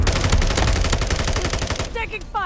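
Rapid automatic gunfire in Call of Duty: Modern Warfare III, loud and continuous bursts of rattling shots, with a few brief electronic game tones near the end.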